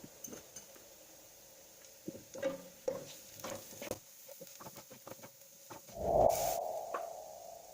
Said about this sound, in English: Sauté diced onion. Add 1 tablespoon turmeric powder.